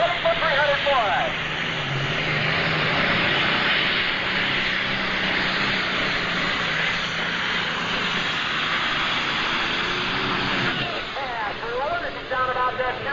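The twin-stack engine of the Green Line Fever, a 9,500-pound Superstock pulling tractor, roars loud and sustained down the track at a 1995 NTPA pull in Fort Recovery, while an announcer talks over it.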